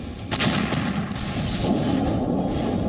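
A dense, rumbling blast of noise with a sharp crack near the start, sustained and rough: a large explosion from an attack on an administrative building in Kharkiv, and its aftermath.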